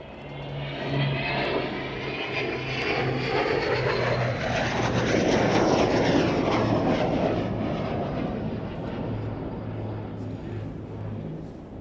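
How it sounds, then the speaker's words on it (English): Avro Vulcan and Lancaster bombers fly past at an airshow, the Lancaster's piston propellers throbbing low as the Vulcan's jet roar builds and fades, a steady loud pass with no talk. "The Vulcan catches up the Lancaster."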